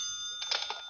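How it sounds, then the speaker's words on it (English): A telephone bell rings in a short, bright burst over a steady high tone, close and fairly loud, from an old-time radio drama. "That's my phone."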